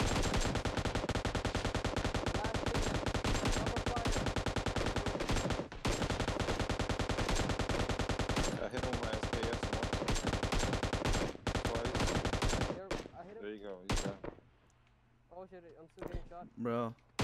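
Rapid bursts of gunfire in a PUBG Mobile match in a school area, loud and dense for most of the stretch, then thinning to scattered shots, with players talking over it.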